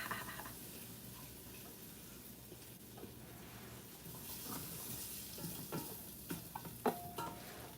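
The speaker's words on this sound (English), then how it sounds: "You hear it sizzle?" A soft, steady sizzle of tofu frying in an air fryer with faint ticks and clinks, quiet and close, with no talking.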